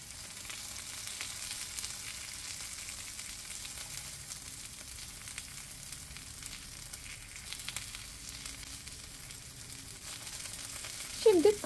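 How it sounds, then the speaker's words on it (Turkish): Eggplant slices and meatballs fry in a pan with a steady, soft sizzle throughout, followed by a brief clatter at the very end. "Patlıcanların iki tarafını da hafif kızarttım. Köfteler de biraz kızarmış oldu."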